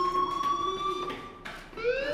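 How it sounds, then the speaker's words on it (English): A school fire alarm in the video game Life is Strange sounds as a continuous electronic tone with bright harmonics, holding steady before shifting slightly in pitch near the end. It is loud and alone, with no talking. "Do you hear that fire alarm? That means you should be outside."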